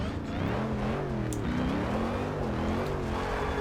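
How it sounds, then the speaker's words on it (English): A supercharged Dodge Charger Hellcat in the racing game Forza 6 revs and drones continuously, its engine note rising and falling with gear changes, loud and close with no pauses. "I am a fan of the supercharger whine on pretty much any car."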